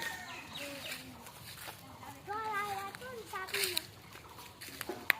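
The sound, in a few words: chickens clucking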